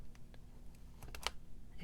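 Small sharp clicks of a paper clip tick irregularly at a craft table, faint and close, a few scattered taps with one brighter snap near the end.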